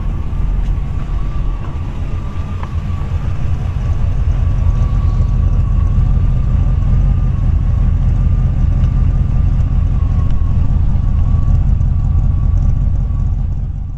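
A 1940 Ford Deluxe Woody Wagon engine idles at low rpm, a steady, close, even low rumble held throughout with no talk.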